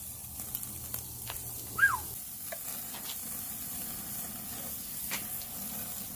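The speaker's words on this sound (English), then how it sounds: "I'm going to go ahead and sear these up on both sides for about a minute or a minute and a half" USDA Prime steaks searing over hot coals on a Weber kettle grill with a Slow 'n Sear insert, giving a quiet, steady sizzle and hiss with a few faint clicks and no talking.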